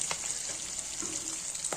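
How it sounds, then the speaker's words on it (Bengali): Khoira fish frying in hot oil, a steady close sizzle with a few brief bursts of spattering. "খয়রা মাছ ভাজা হচ্ছে"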